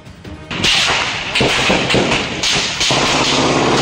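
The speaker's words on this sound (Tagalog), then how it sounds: "Sunod-sunod na putok ng baril ang umalingaw-ngaw sa Municipal Hall sa Sharif Agwak." A rapid string of loud, sharp gunshots cracks out in uneven succession at a municipal hall in Sharif Aguak, Maguindanao del Sur, each burst echoing, with no speech.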